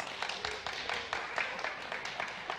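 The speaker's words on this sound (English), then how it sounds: "Let's give our kids a round of applause" A congregation claps for children at a Father's Day church gathering, with sparse, distinct hand claps at an uneven rhythm, fairly quiet and without talk.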